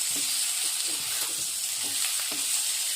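Fish curry with cumin paste sizzling in a pan while being stirred, a constant bright hiss broken by soft, regular scraping strokes of the spoon, close and steady with no voices.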